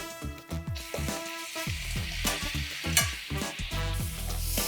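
Bone-in mutton sautés with garlic paste in a pan over high flame, with repeated scraping stirs and clanks against the pan over a continuous sizzle.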